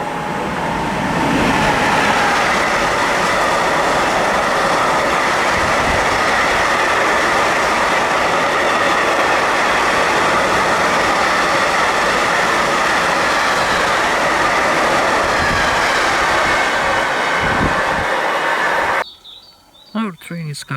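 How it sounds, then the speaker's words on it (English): A blue City Cargo Traxx 3 locomotive hauls a long freight train past a trackside spot in Mecklenburg, with a loud, continuous rumble and rolling wagon clatter for about nineteen seconds before it cuts off abruptly. "A nice blue Trax 3 from City Cargo with a long train."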